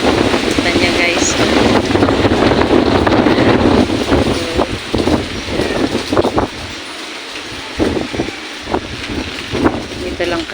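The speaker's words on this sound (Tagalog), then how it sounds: "malakas yung hangin" Strong typhoon wind from Maymay roars steadily close to the microphone, gusting and buffeting, with someone speaking over it at times.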